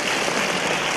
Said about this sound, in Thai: ปรบมือผมหน่อยครับ